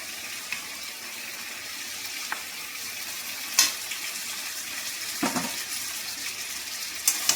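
Aloo dum, a spiced potato curry, frying in a pan with mustard oil poured over the top: a steady soft sizzle throughout, with a few brief louder crackles and splutters, near and with no talk.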